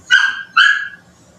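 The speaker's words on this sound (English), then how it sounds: "annoying puppy." Puppy locked outside a house barking twice in quick succession, loud, close and high-pitched, with no other sound around it.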